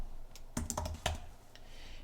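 Typing on an iPad Pro Magic Keyboard, a handful of soft, close key clicks in an irregular cluster, then a quieter tap or two in a quiet room.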